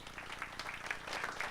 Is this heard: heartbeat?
no